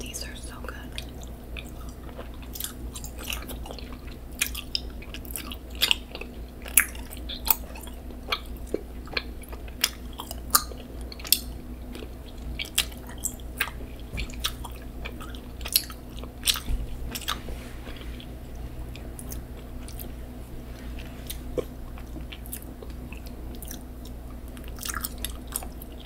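Shark-shaped gummies and Jolly Rancher gummies being chewed close up, with soft squishy chews and sharp sticky clicks repeating steadily throughout, faint and intimate, over a low background hum.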